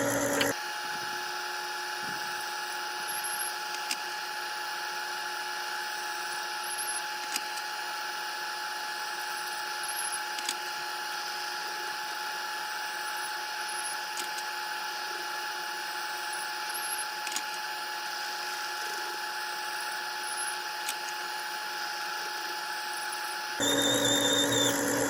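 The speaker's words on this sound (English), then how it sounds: "So we got 8 more pieces of brass here, so we're going to trim them." A Frankford Arsenal Platinum Series case trimmer whirs steadily while trimming brass cartridge cases, a continuous high-pitched motor drone with faint clicks as pieces are changed, running alone for most of the stretch.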